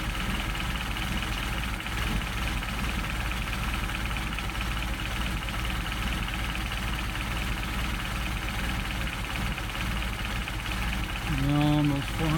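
Mercedes 190SL engine with Solex carburetors idling at very low RPM, a steady low rumble filling the whole span, close, with a brief whining sweep near the end.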